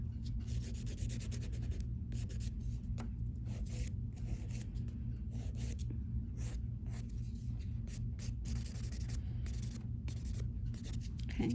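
Acrylic nail file rubbing steadily across a natural nail plate, a continuous close scratchy rasp with rapid back-and-forth strokes and no talking.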